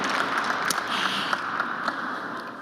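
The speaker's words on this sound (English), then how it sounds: "can you clap for yourself that you're here and we're all healthy and support me, please?" An audience in an architecture session claps, a steady wash of applause that holds at an even level throughout with no one speaking over it.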